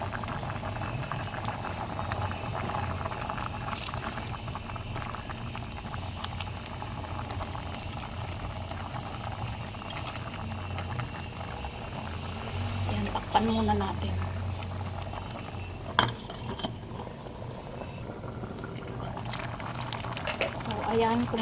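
Sinigang soup with kangkong and ssouring mix bubbling at a steady boil in a pot, a continuous close bubbling and simmering texture that runs throughout, with a person speaking briefly over it.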